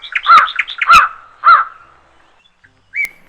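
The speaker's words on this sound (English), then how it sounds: "crow, crow." A crow caws three times in quick succession, harsh and loud, with a short pause after the third call. A fainter, brief call follows near the end.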